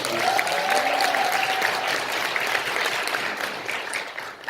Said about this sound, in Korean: 큰 박수 한번 감사드립니다